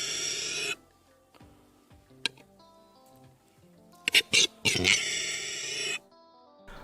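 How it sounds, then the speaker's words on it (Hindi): A male capercaillie calls in a series of sharp clicks, pops and rasping, squealing bursts, loud and close, separated by quieter pauses. "अपने विशाल आकार और खतरनाक रूप के अलावा मेल कैपेकेली अपनी दिलचस्प आवाजों के लिए भी जाना जाता है"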